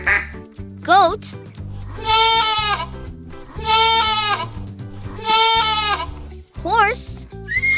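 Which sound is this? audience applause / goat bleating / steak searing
goat bleating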